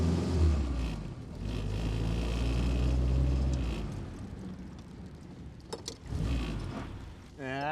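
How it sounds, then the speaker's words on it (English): A WW2 jeep idles and revs through a double-declutch gear change, its low engine rumble rising and falling, with a brief grinding scrape from the gearbox near the end; a voice speaks briefly at the start. "You could just hear that slight grind because I just hadn't got it quite high enough."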